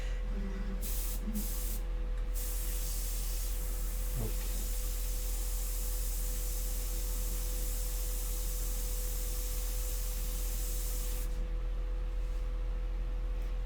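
Airbrush spraying India ink onto paper for a portrait painting, a steady continuous hiss of air running throughout at moderate level with a faint low hum beneath.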